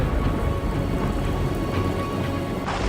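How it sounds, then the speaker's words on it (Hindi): Heavy rain pours down steadily in the Kedar valley, a dense continuous roar of drops with a low rumble underneath and no voices. "केदार घाटी में जबरदस्त बारिश हो रही थी।"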